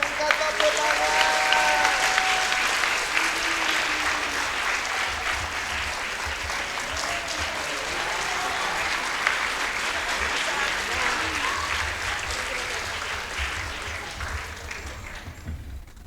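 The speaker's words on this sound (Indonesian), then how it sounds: "Ya, berikan tepuk tangan." Sustained, full applause from a seated crowd at a gathering rolls on steadily and loudly for a long stretch, with voices audible over it at the start, before it slowly thins out at the end.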